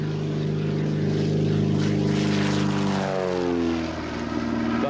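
A propeller airplane engine drones loudly and steadily at close range, its pitch shifting gradually as the plane moves, with no talking.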